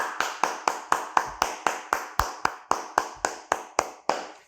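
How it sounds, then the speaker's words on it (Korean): Rhythmic, evenly spaced claps, about sixteen sharp strikes in steady time, fairly close and moderately loud, during an Easter Sunday worship service in a Korean church. "우리 하나님께 영광과 감사의 박수를 올려드리겠습니다"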